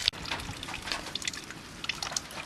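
Water and coolant drain from the cooling system of a 2005 Chevrolet SSR, a faint trickle with scattered drips and splashes against a quiet background.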